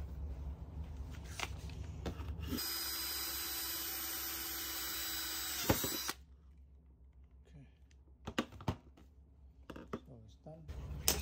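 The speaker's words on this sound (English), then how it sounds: "we can start the drilling" A power drill bores into a foam block while building a basin-style passive vertical hydroponics tower, running in a steady, fairly loud whine for about three seconds before stopping, with handling knocks and clatter around it.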